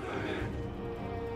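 Cavalry horses in the video game Total War Three Kingdoms give a short, close whinny that rises and falls quickly, with faint battle noise beneath it.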